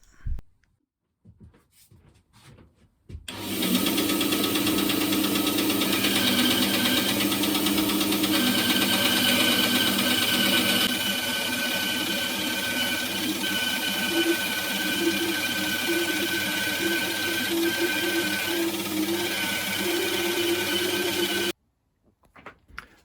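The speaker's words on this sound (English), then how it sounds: "Just kind of halfway through cutting this big chunk down on my bandsaw." A small 250-size bandsaw cuts through a thick chunk of sapele wood, a steady, loud mechanical drone that starts abruptly, runs unbroken for about eighteen seconds, then cuts off.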